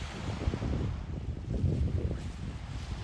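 Ocean waves washing onto a beach at Sandbanks Provincial Park near Burgeo, Newfoundland, a continuous low surf rumble mixed with wind buffeting the microphone, no voices.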